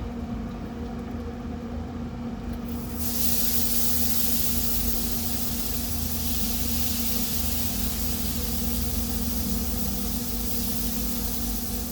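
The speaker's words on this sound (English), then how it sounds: "So now I'm going to squirt it with some apple juice" A continuous loud spray hisses for several seconds as apple juice is squirted onto a pork shoulder in a smoker, with a low engine-like hum beneath it and no talking.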